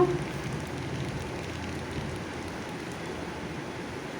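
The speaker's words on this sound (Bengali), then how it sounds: "কড়াইতে আমি সরিষার তেল দিয়ে দিচ্ছি আর সরিষা ফোড়ন দিয়ে দিচ্ছি" Mustard seeds sizzling in hot mustard oil in a wok give a steady, even hiss like light rain, close and continuous, with no voice over it.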